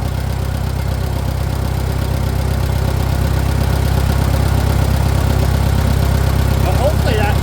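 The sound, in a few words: Farmall 400 tractor engine idling while warming up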